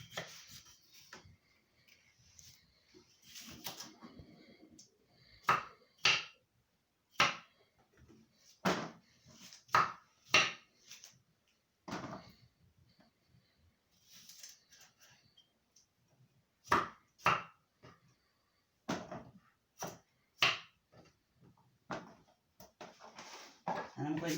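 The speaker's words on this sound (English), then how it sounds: "And I'm just gonna slice up my cucumber." A cucumber being sliced with a knife on a cutting board during home juice preparation: crisp, irregular chopping taps arrive in bursts, close and fairly loud, with short pauses between runs of cuts.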